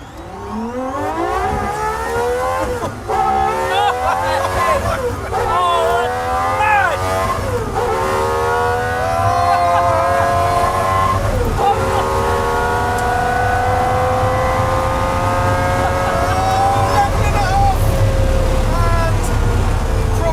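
A GMA T.50 V12 fan car with a 654bhp engine revs hard toward 12,000 RPM on a runway, its loud rising wail climbing in repeated sweeping pulls that build to a sustained high scream.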